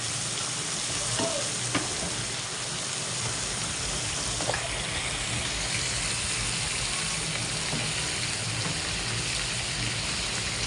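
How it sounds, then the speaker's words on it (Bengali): Shrimp lightly frying in a pan give a steady, even sizzle with occasional soft stirring taps, close and constant the whole time, no voices. "চিংড়ি মাছগুলো আমি হালকা ভেজে নিলাম।"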